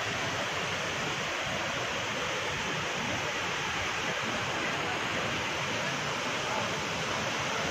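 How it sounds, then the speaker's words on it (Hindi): Water rushes down a small waterfall at Anmod Ghat, a dense, steady hiss and roar that holds at the same level throughout, with no voices over it. "आप देख सकते हैं पे इतना ब्यूटीफुल सा वाटरफॉल टाइप है।"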